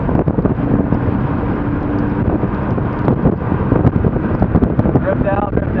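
A Ford Focus ST at full throttle on a race track day roars as a steady, rough, broadband engine drone, heard from inside the car with wind buffeting. A voice talks over the noise.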